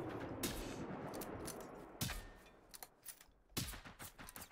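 Gunfire and rocket blasts from the video game Generation Zero, several sharp bursts and booms at intervals with rumbling decay between them, fairly loud against a noisy battle background.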